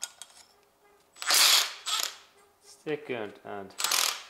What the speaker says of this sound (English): Then I need 10mm socket. This is first bolt